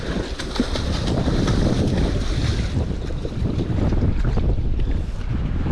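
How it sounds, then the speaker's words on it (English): Strong gusty wind roars below a raging dam while catfish fishing, buffeting the microphone with a loud continuous rumble and rushing noise over churning water throughout. "This wind is killing me."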